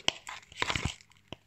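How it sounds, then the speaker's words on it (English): Glittery slime being stirred and mixed by hand, giving a few sharp crunchy crackles and crinkles in quick bursts, close and fairly quiet, with no talking. "You hear that crunch, don't you? That crunch of the crunchiness crunch."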